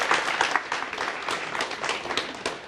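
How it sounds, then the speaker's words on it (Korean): An audience at a lecture claps with steady, dense applause at moderate distance, lasting the full moment without pause, with a voice faintly present. "박수 한번 주세요."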